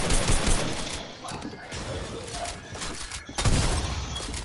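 Revolver gunfire in the Fortnite video game: several loud, sharp shots burst out over dense game noise, with a short lull between the volleys.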